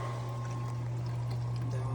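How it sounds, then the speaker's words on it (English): A pump pushes water through hoses and an electrolysis machine's filter chamber, giving a continuous pouring, trickling rush over a steady low mechanical hum, close and unbroken. "It's coming back up through the top hose back into the container, and from there it gets pumped back in."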